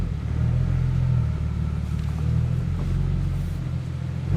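A BMW N54-engined car fitted with a single turbo kit accelerates, a steady loud low rumble and drone from the exhaust heard from inside the car, with no talk.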